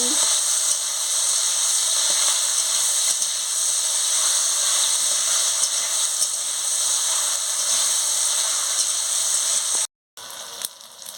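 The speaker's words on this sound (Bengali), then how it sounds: "চালটাকে দিয়ে ভালো করে নাড়িয়ে নিচ্ছি" Rice is stirred in a hot pan for chalta (elephant apple) chutney, producing a loud, even sizzling hiss that runs steadily and cuts out briefly near the end.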